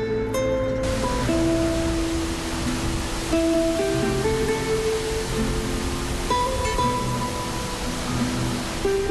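The Ouzoud waterfalls near Azilal in Morocco's High Atlas give a steady, broad roar of falling water. Sustained musical tones play over it throughout.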